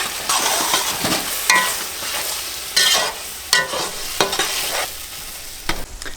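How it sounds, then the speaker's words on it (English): Onions, tomatoes and chilies frying in a masala mix in a pan over a high log fire, a steady loud sizzle broken by repeated scraping stirs, with no voices. "you want to add the onions, the tomatoes and the chilies. Keep the fire high and cook this masala mix until it's nice and golden brown."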